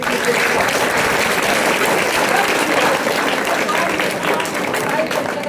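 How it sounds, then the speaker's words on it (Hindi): Dense, steady applause fills an award ceremony hall at an academy in Manjhaul, Begusarai, held at an even level throughout with a faint murmur of voices underneath. "एक बार जरूर ताली बजाएंगे"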